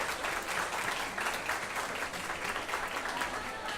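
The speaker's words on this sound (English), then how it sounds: "So how about a big round of applause for these folks?" Audience applause at the opening remarks of a conference, sustained clapping from a moderately sized crowd that stays even and fairly distant throughout.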